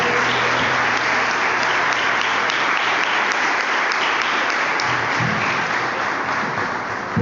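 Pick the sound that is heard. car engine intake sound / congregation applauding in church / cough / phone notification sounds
congregation applauding in church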